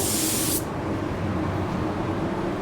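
An aerosol spray paint can hisses loudly in a short, close burst in winter conditions and then cuts off. A low background rumble continues afterward.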